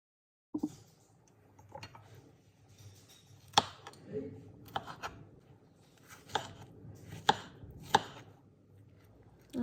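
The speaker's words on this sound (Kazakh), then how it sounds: "Осылай клубникамызды да турап аламыз." A knife slices strawberries on a board for a galette, giving a slow series of crisp, close chops spaced a second or so apart over a quiet background.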